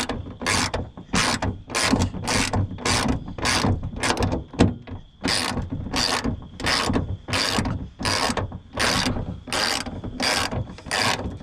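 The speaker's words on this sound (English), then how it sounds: "We got our 13mm socket. Put it on and just pull towards you. Make it really tight" A ratchet with a 13mm socket tightens a Ford Performance hood strut. It gives a loud, close, steady series of rapid clicking strokes, about a dozen evenly spaced pulls over several seconds, with no talking.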